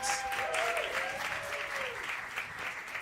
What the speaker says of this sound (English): a big round of applause for our first batch of candidates tonight.